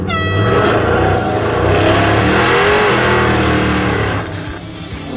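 A muscle truck revs hard and accelerates through a cone course, its loud roaring engine rising and holding steady for several seconds before easing off.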